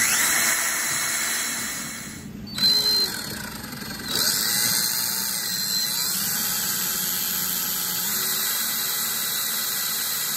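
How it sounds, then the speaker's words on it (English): A drill fitted with a 1/8-inch bit bores slowly through the front axle knuckle of an EZ-GO TXT golf cart, giving a loud, high whining squeal with a brief stall and restart partway through before settling into a steady grind. "I'm going to take a 1/8-inch drill bit and I'm going to go ahead and finish drilling through this"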